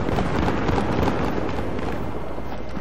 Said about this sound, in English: someone's shooting at me, though